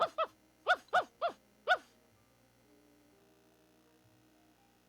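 A dog in the video game Martha is Dead gives a series of short high yelps, about six sharp cries in quick succession, followed by quiet low hum.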